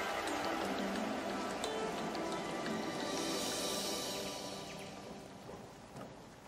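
Steady rain falls around Saint-Paul-de-Vence in the south of France, a continuous close hiss and patter with no pauses, easing off slightly toward the end.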